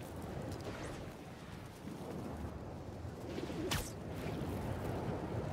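Pigeons coo softly and repeatedly in Marvel's Spider-Man 2, low burbling calls sitting under a constant wash of city ambience, with a brief sharp whoosh cutting through near the end.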